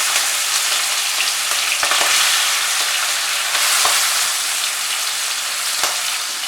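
Marinated prawns fry on low heat for a Bengali chingri posto, giving a steady, close hiss of sizzling oil with a few faint clicks of stirring throughout, no voices.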